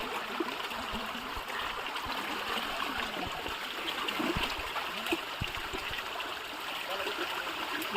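Water flowing steadily in a stream by a village riverbank, a continuous rushing babble with a few low knocks and rustles nearby.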